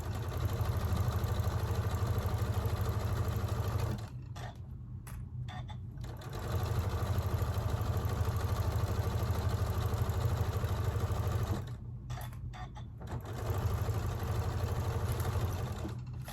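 Sewing machine stitching a fabric neck pillow, fast steady whirring runs close and loud, twice pausing briefly for a backstitch before resuming, no voices.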